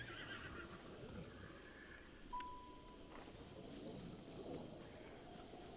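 Horse neighing in the video game The Legend of Zelda: Breath of the Wild, a single whinny heard over a busy in-game ambient background.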